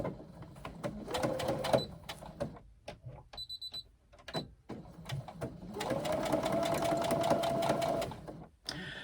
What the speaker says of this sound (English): we are going to sew both front pieces together. Again with a 3/8 inch seam.